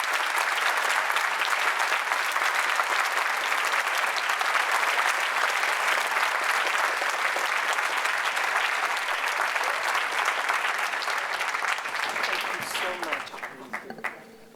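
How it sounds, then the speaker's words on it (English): Sustained, dense audience applause at a public health summit, loud and steady for most of the stretch before tapering off near the end. "Give her another round of applause."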